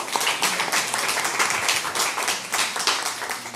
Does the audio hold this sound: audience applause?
yes